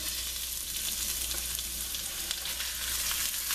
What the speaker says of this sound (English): I have the flame on high. I'm putting the peanut oil in there. I'm going to saute.